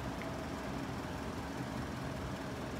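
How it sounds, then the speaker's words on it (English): A train approaches a level crossing in Brayford, heard as a steady, broad rumble of rail and engine noise that stays even and fairly close throughout. "Right, second train approaching."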